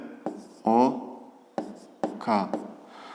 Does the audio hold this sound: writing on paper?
yes